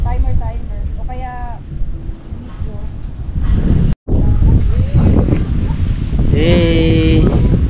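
Strong wind buffeting an outdoor camping site in Bulacan, a loud, constant roar and rumble with gusts, while people talk and sing over it.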